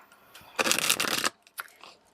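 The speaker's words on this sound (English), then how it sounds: "I'm actually going to shuffle out more cards" A deck of tarot cards is shuffled by hand in one dense burst of riffling and rustling lasting under a second, followed by a couple of softer card flicks, with no voices.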